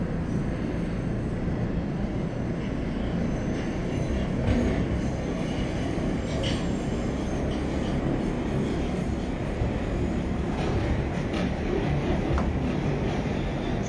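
A simulated NYC Subway R143 train from the OpenBVE game rolls out of 207th Street Yard, giving a steady, moderately faint rumble of wheels and motors with occasional soft clicks and squeals throughout.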